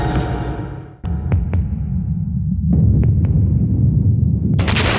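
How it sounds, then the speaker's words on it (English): Dramatised explosion in the torpedo room of the Russian nuclear submarine Kursk: a sudden sharp blast near the one-second mark, then further short cracks over a heavy, rumbling low roar that swells and continues to the end. "An explosion tears through the torpedo room of the giant Russian submarine Kursk."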